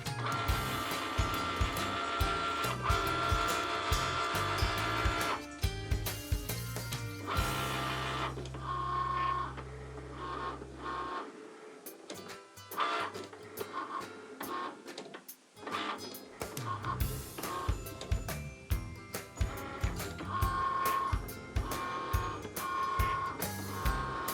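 Cricut Maker cutting machine working through a cut for dollhouse miniatures, a busy run of whirring motor passes and rapid clicking carriage movements, with a short low hum and a near-silent gap midway before the mechanical chatter resumes.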